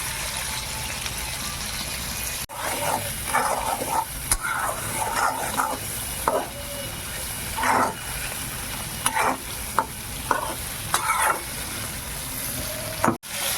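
Fish oil frying in a pan with salt and turmeric, a constant close sizzle broken by repeated spatula scrapes and clacks; a dog barks briefly in the background.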